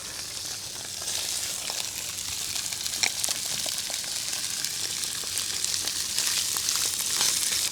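A mackerel fillet frying skin side down in a pan, with a steady, bright sizzle and occasional small pops and crackles, close and continuous.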